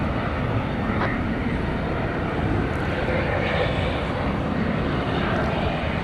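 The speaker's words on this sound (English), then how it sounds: "there is the Qantas King of the Skies, Flight 8 going to Sydney in about a little more than 3 hours from now." Jet engine rumble from a Qantas airliner at Dallas Fort Worth airport at night, a steady, moderately distant roar lasting the whole stretch, with a voice speaking over it.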